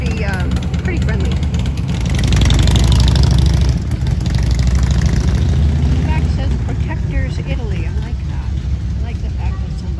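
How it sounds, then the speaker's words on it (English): Motorcycles pass along a street in an Italian fishing town, and a steady, loud engine rumble swells and fades over about ten seconds, mixed with street noise. "We also have motorcycle gangs here, but they look pretty, pretty friendly."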